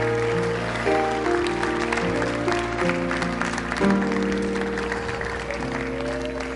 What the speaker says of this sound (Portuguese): você aplaudisse o Senhor bem forte